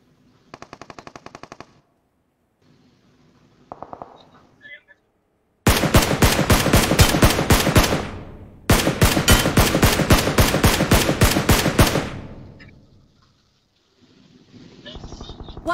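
Automatic gunfire in an online shooter game rattles out in two long, loud sustained bursts, preceded by a few shorter bursts, with brief pauses between.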